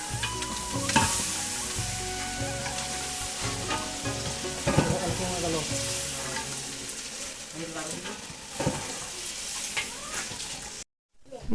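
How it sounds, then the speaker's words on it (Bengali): Beef being stirred in a pan while frying with spices: a loud, close sizzle with repeated scraping and clattering strokes of the spoon, continuous until a brief silence near the end. "এই যে আমি এখন মাংসটা নাড়াচাড়া দিতেছি কারণ মশলাগুলো যাতে প্রতিটা মাংসর গায়ে গায়ে লাগে"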